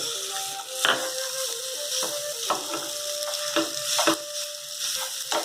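Mashed potatoes are stirred into lightly roasted spices, including coriander powder, in a pan, with repeated close scraping strokes and soft clacks over a steady low sizzle and a faint tonal background.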